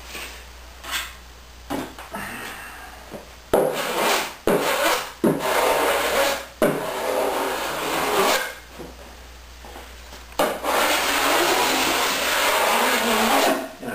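Abrasive paper rubs by hand over fiberglass tape seams on a boat hull during fairing, a close, steady rasping scrape in repeated strokes, broken by short pauses between passes.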